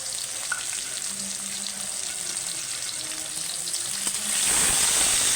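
Green chilies, tomatoes and ginger paste fry in a pan for a Bengali puri torkari, giving a steady close sizzle throughout that grows louder and brighter near the end, with no speech.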